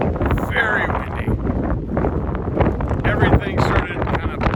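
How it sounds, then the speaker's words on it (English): Strong gusts buffet the microphone in an open desert camp, producing a loud, continuous low rumble and roar that swells and dips throughout, with faint flapping and rustling mixed in. "today is very windy."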